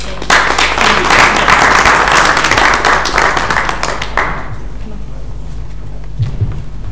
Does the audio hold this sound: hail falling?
no